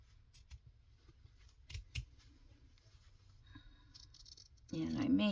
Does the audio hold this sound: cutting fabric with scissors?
yes